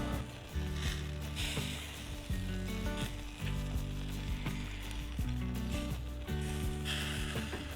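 Lamb koftas sizzle steadily on a grill, a loud close crackling hiss that runs throughout, broken by scraping and clinking as the pieces are turned, with a low background hum underneath.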